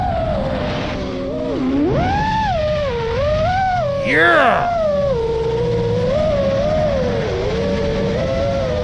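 Racing cars pass below a drone, heard through the drone's own microphone as loud whining engines that rise and fall in pitch over the steady drone motor hum, with a brief spoken word.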